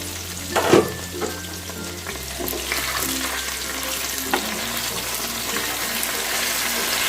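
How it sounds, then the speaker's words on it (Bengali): Boal catfish sizzles steadily in hot oil, with a brief clatter near the start as the pieces are turned in the pan. "এইভাবে আমি মাছগুলোকে একটু ভালো মতন ভেজে নেব"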